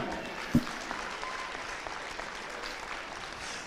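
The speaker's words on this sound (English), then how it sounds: "Clap it up for junior Lizzie Hamler." An audience at a women's all-star basketball event applauds with steady, even clapping that sounds somewhat distant and moderately faint, with one sharp thump near the start.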